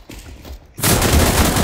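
Rapid burst of gunfire in the video game CS:GO, loud and dense, erupting suddenly after a short quiet stretch and continuing to the end.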